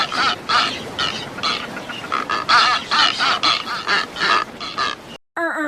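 A person's voice imitates a bird call in a run of loud, close, duck-like quacking and honking bursts in an uneven rhythm, ending with a brief silence.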